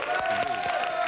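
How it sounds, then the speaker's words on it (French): Applause from a TV studio audience on a French comedy show, steady dense clapping with a faint sustained tone and some voices mixed in. "On applaudit"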